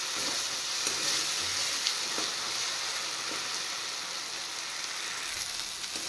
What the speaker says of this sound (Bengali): মশলা ফ্রাই হয়ে গেছে